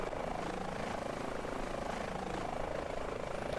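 An Airbus H145 helicopter in Microsoft Flight Simulator gives off a steady, loud rotor and turbine drone with a dense, even thrum that holds without a break.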